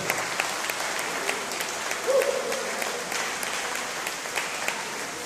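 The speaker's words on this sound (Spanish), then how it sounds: "Dale una ofrenda de palmas al Señor." A church congregation claps together in a sustained wash of applause during a service, steady and fairly loud, with faint voices mixed in.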